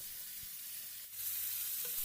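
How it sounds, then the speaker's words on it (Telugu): Chopped spinach stirred into a pan of frying onions and tempering, giving a steady soft sizzle with a faint scrape or two, fairly quiet and without voices. "మనం సన్నగా తరిగి పెట్టుకున్న పాలకూరను వేసుకొని బాగా కలుపుకోండి."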